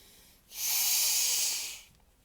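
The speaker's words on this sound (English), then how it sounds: "Which is Nadi Shodhana breathing." One long, steady breath drawn through the nose for Nadi Shodhana alternate nostril breathing, a close, airy hiss lasting under two seconds with no talking.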